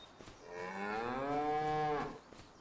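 Cattle in the Farming Simulator 25 game moo in one long, drawn-out, harmonic call of about a second and a half, rising and then holding steady, with a faint background and no talk.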